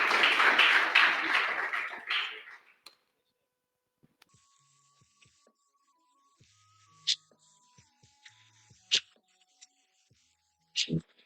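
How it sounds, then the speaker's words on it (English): Conference audience applauding a guest, dense clapping for about two seconds that fades out, followed by near silence with a few scattered taps and clicks. "Everyone, a round of applause to Stephen, a true legend, really."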